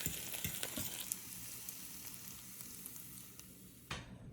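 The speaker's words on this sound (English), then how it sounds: "I'm cooking my eggs in butter. I like to melt butter in the pan and do a soft scramble on my eggs" Eggs soft-scrambling in melted butter in a pan give a steady, fairly quiet sizzle with a few soft scrapes of stirring early on and one brief clatter near the end.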